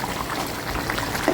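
Bottle gourd curry with salted water bubbles steadily in a pan, a continuous soft boiling hiss with faint popping, close and alone without talk.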